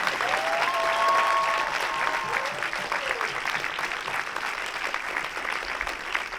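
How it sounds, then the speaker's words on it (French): A cinema audience applauds the film's crew at a screening, steady crowd clapping holding at an even level throughout, with a faint tone briefly sliding through early on. "J'aimerais qu'on remercie l'équipe. Mathias Cordari pour le son, s'il vous plaît, avec notre applaudissement."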